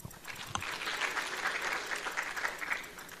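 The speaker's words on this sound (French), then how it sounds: "que je vous demande encore d'applaudir" Applause from a crowd at a medical graduation ceremony, a steady wash of many hands clapping at moderate distance, fairly quiet overall with a sharp clap standing out early on.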